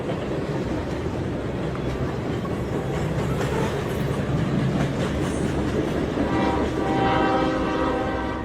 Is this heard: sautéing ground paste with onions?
no